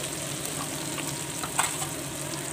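Garlic, ginger, black pepper, cumin and coriander paste with turmeric and chili powder fries in a pan for egg curry. A steady, close sizzle runs throughout, with a brief stirring scrape.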